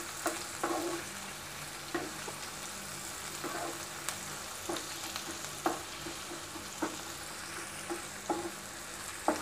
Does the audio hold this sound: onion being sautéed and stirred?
yes